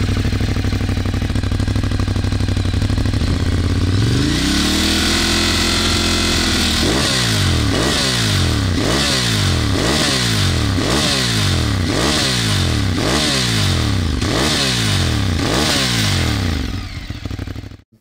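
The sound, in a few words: motorcycle engine revving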